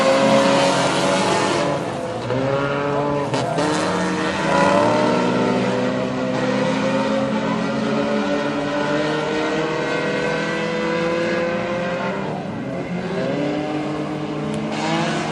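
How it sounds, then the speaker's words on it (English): Hornet class race cars at Princeton Speedway race after the green flag, their loud engines snarling and repeatedly sweeping up and down in pitch as the pack roars around the track. "Green flag out, we're racing at the end of 1."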